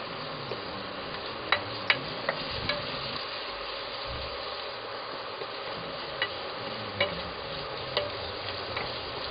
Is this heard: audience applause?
no